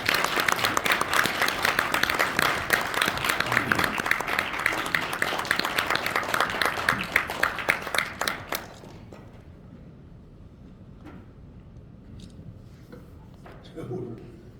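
At a Korean government policy forum, a large audience gives a full, steady round of applause welcoming a committee chairman to the podium. The clapping lasts about nine seconds, then cuts off into a quiet hall with a faint voice.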